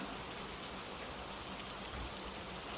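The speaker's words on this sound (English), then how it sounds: "Rain falling" Rain falls in a soft, continuous patter, an even wash of drops at low volume with no other sounds.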